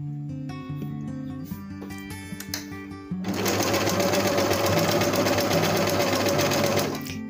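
A sewing machine runs steadily on a straight stitch, starting abruptly after a few seconds of quieter handling and carrying on loud and close with a fast, even whir before stopping near the end.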